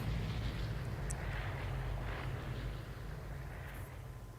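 A loud, constant engine roar of a propeller airplane in the video game Vigor fills the scene, steady and close overhead, drowning out other sounds.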